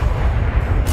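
In a wizarding video game, a dark-magic spell explodes with a deep, rumbling boom. The sound rolls continuously for about a second, loud and low.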